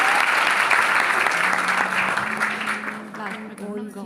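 An audience at a school function applauds dancers, a dense, steady clapping that gradually thins and softens toward the end, with a voice speaking faintly underneath.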